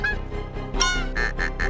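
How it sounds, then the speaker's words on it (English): Geese honk in the golf video game Golf Story, a few short nasal honks in quick succession, close and fairly loud, with three evenly spaced calls at the end. "When you compete in real tournaments, there'll be even more geese."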